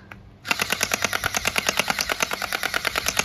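Automatic water bead gel ball blaster firing, starting abruptly with a rapid steady burst of sharp popping shots about seven per second, close and loud, with no talk.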